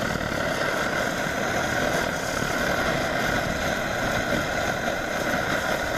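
A steady, loud roaring hiss runs unbroken throughout, like a pressurized burner flame burning at full blast up close, from a Svea 123R camping stove.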